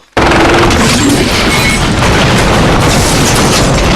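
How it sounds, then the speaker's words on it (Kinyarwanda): Loud, sustained rocket launcher blasts and booming explosions from a dubbed action film fill the whole stretch after a brief quiet start, dense and continuous with rumbling low end. "rocket launcher"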